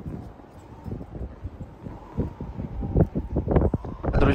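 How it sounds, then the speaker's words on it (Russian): Gusty mountain wind in the Siberian taiga near Divnogorsk, Krasnoyarsk Krai, buffets the microphone, rumbling and swelling louder toward the end, with rustling bursts and no speech. "Тут вроде задувает сильнейший ветер"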